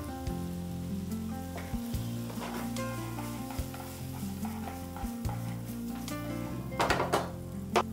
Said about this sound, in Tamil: நல்லா ரோஸ்ட் ஆகிடுச்சு சிக்கனு.